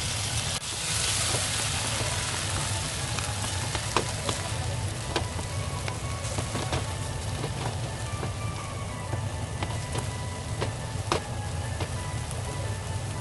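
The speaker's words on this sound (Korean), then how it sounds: "이제 김치를 볶아주세요." Kimchi stir-frying in a pan for Spam mayo kimchi fried rice, a steady dense sizzle and crackle running throughout with scattered sharp pops, close and continuous with no talking.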